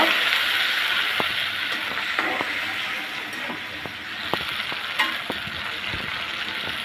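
Spices and tomato puree fry in a pan for an egg and potato curry, giving a steady broadband sizzle with scattered crackles and occasional stirring clicks, close and continuous, with no talking.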